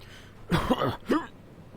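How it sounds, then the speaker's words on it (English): Two short, forced coughing bursts close to the mic, a longer one followed by a brief second, with quiet room tone around them. "Apparently fake coughing causes me to hiccup."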